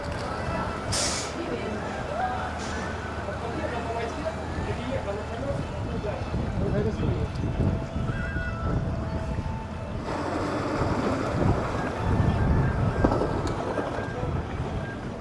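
Motor boat cruising along a canal at a Thai floating market, a steady broad engine and water wash throughout with wind buffeting the microphone, while people talk over it.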